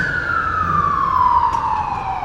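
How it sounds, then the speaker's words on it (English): A loud wailing siren sweeps slowly downward in pitch, steady and continuous with faint traffic rumble beneath and no talking. "emergency vehicle. Hopefully nothing bad has happened, but it's a noise"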